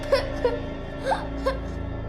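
A young girl cries in a ruined building, four short whimpering sobs spaced about a third of a second apart over a low background hum.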